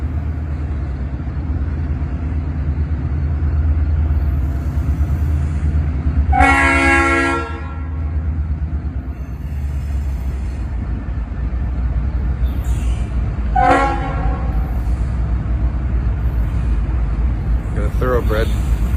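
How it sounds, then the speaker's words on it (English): A CSX local freight train approaches with a steady low rumble of engine and wheels, sounding its horn in two loud blasts and a shorter third, while a voice speaks briefly. "Waiting the arrival of a CSX local."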